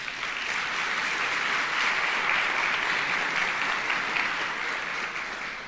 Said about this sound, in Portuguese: Uma salva de palmas para o Davi.